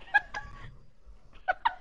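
A pet cat meows at a big dog indoors, giving a few short, bright calls near the start and again near the end, separated by a quiet pause.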